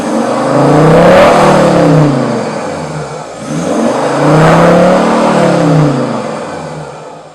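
A diesel engine with a modified exhaust revs hard twice, each run climbing to a loud, raspy roar, holding, then falling back, close and alone.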